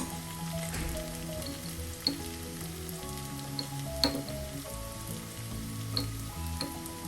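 Ginger and onion fry in a pan with a steady close sizzle, while occasional clicks and taps come from a spoon stirring through the pieces. No one speaks.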